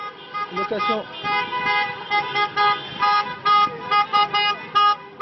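Many car horns honking in a staged street celebration in Switzerland, repeated short and long toots overlapping in an uneven rhythm, loud and close over traffic noise.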